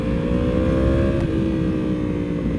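Yamaha R1M motorcycle exhaust revving hard in mode B, a loud close sustained rasping engine note with steady harmonics, no talk.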